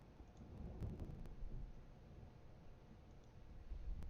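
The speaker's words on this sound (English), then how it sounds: "Big old storm going on right now." Thunder rumbles low and steady from a storm outside, a continuous muffled roll with a few faint clicks, no voices.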